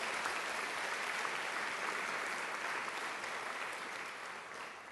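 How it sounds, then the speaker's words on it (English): A college town hall audience applauds the student volunteers, a steady, dense round of clapping from many people that holds evenly and then tapers slightly near the end, heard faintly at a distance. "Please give another round of applause to the student volunteers who made today happen."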